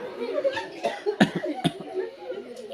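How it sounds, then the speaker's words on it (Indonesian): A few sharp coughs are heard close by during a church sermon, mixed with light chuckling and talk. "Jadi bapak tinggal batuk saja."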